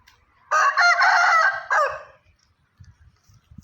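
A young fighting cock, caged for about seven months, lets out one loud, close crow with a long held call and a short tail, followed by faint low knocks and shuffles.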